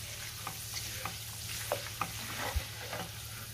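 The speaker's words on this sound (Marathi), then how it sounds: "आता आपण हा बटाट्याचा किस सुद्धा तळून घेऊया।" Grated potato frying in hot oil gives a soft, continuous hiss broken by scattered small crackles and pops, heard close with no voices.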